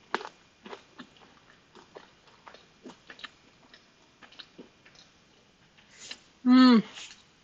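Close, wet bites and soft repeated chewing on a walnut-coated kürtőskalács chimney cake, a run of small crunchy clicks followed by a short voiced hum of approval.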